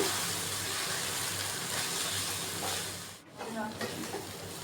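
Chicken mince and grated potato stirred and fried in a pan give a steady, moderately loud sizzle with scraping, dipping briefly near the end before resuming.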